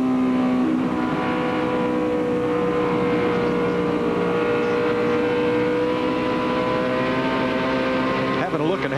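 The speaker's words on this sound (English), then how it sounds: "here comes Ryan Newman right back underneath him going down into turn one" NASCAR stock cars race at the 2004 Golden Corral 500, their engines a continuous loud roaring drone with rising and falling pitch, while a commentator talks over the track noise.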